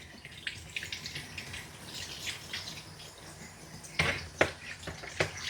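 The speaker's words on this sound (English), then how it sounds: "I'm going to rinse the top part of her head, holding her nose down." Water runs and splashes while a small Morkie dog's head is rinsed during grooming, a steady soft trickle with a few louder spattering bursts near the end.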